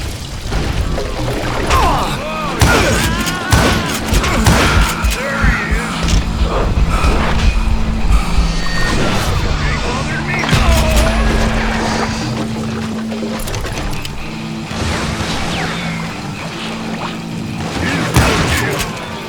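Gunfire in Call of Juarez Gunslinger: rapid bursts of sharp, loud shots crackle repeatedly over a dense layer of game effects and clatter, close and intense throughout.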